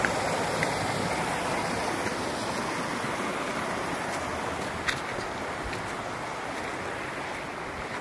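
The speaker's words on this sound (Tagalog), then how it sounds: "May falls na maliit." A small mountain waterfall feeding a cold stream in the hills, rushing steadily and fairly loud throughout with a broad continuous splash and one brief knock partway through.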